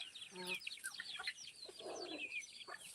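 Free-range village chickens (desi hens and chicks) on a small farm, with repeated short clucks and chirping calls close by, a brief low murmur in the middle.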